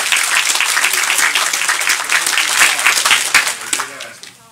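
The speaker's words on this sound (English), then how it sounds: "Let's give those kids another round of applause." A church audience at an evening revival service applauds the children, a dense, steady wash of clapping that fills the room and tapers off near the end.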